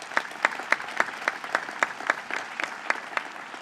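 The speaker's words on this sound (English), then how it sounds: "Let's give them a round of applause" A small group claps in an even rhythm at an event announcing a studio expansion in the Bronx. The claps come as distinct, moderately loud beats, roughly three or four per second, with no voices.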